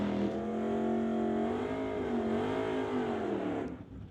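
Drag race cars at a track doing burnouts: a loud, sustained revving engine tone that rises and wavers for a few seconds, then cuts off abruptly, with no voices over it.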